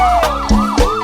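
Wailing electronic siren effect within a Brazilian pagodão party track, rising and falling sweeps repeating about every quarter second, loud and up front over a booming bass beat.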